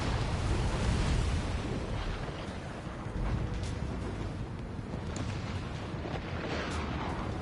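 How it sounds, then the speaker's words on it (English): Missile explosions during an Ace Combat 7 aerial dogfight, a dense roaring rumble of blasts and jet noise that stays loud and continuous across the whole stretch, with a few sharper bursts on top. "Strider 2 struck by a missile"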